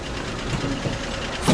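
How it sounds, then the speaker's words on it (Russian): A GAZ engine runs steadily in an old Chinese bus built on a GAZ-21, a loud, close, continuous mechanical rumble with no voices over it. "Судя по звуку, есть какой-то газовский мотор"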